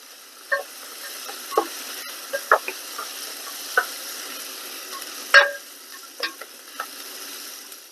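Onions cooking in a pan over a soft, low sizzle, with scattered clinks and scrapes of a utensil stirring at irregular intervals.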